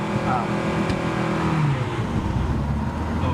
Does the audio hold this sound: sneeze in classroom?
no